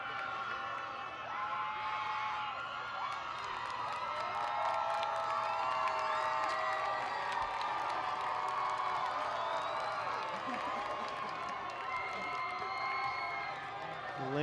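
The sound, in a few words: Lancer crowd applauding the volleyball team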